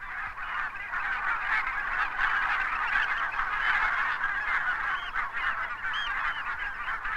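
A flock of barnacle geese honks continuously, a dense overlapping chorus of yelping calls that stays loud and steady throughout with no talk.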